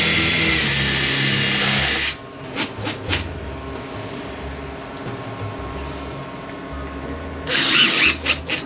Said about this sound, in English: Definitely going to want to pre-drill these so we don't split the wood we just finished.